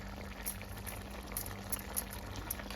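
A jackfruit seed curry simmers in a pot, a steady low bubbling with occasional soft pops, close and continuous.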